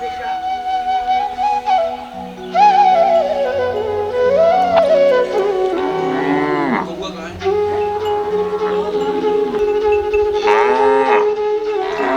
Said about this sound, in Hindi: सभी गौ माताएँ देखो उसी प्रकार आवाज़ लगा रही हैं